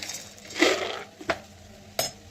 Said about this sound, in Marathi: मिक्सरच्या भांड्यामध्ये टाकत आहे मी शेंगदाणे, ते भाजलेले शेंगदाणे आहे,